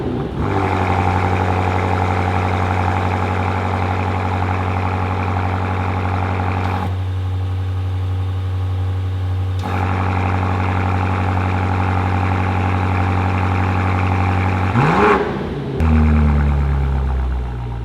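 A BMW G90 M5 fitted with a Valvetronic Designs valved sport exhaust rumbles loudly at a steady idle, drops briefly twice, then revs up near the end before settling into a deeper idle.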